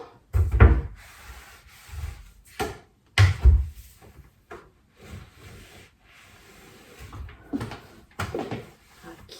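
Kitchen cabinet doors, some of them wooden, are wiped and cleaned with irregular rubbing strokes and soft knocks of doors and wood, close by and fairly quiet.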